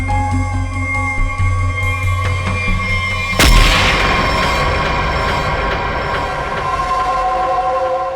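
A single loud, sharp sniper rifle gunshot from a crime drama cracks out about three seconds in and rings away into a long decaying tail over a steady droning background, with no voices.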